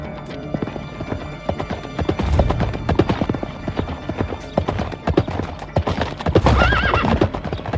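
Horses gallop in a radio-style audio drama, with loud, close hooves clopping in a rapid rhythm and sharp whinnies rising over them, one near the start and one toward the end.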